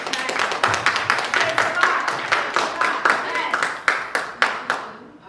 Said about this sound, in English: Let's give her another round of applause tonight.